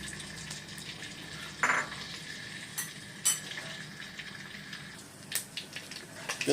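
Chicken skins frying over low heat until crisp, a soft continuous sizzle and bubbling oil with occasional clinks and scrapes of a utensil stirring in the pan.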